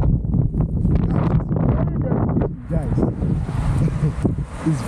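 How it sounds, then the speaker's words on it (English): Strong wind buffets the microphone in a steady broadband rush, with a voice talking over it throughout, outdoors in Brazil. "it's very, very windy"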